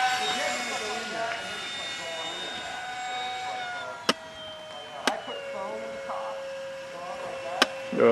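An electric ducted fan RC model jet makes a pass, its high whine sliding down in pitch as it goes by. A few sharp clicks cut through, with voices talking over it.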